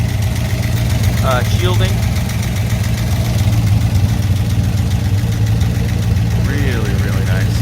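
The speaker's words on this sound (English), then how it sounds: "Really hear the solid lifters in this motor." A 1966 Corvette L72 427 V8 with side exhaust idles steadily and loud, with a fast, even ticking of solid lifters running through it while someone talks over the engine.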